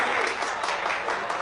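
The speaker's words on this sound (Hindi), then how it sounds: "इनके लिए जोरदार तालियां प्लीज।" Brief burst of audience applause at a stage event, dense continuous clapping from a crowd, fairly soft and without distinct voices.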